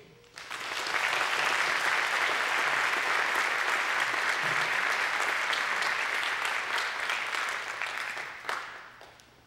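A church congregation at Pilgrim Rest Missionary Baptist Church applauds to welcome speaker Dr. Quinn, steady full-room clapping swelling up fast, holding for several seconds, then tapering off.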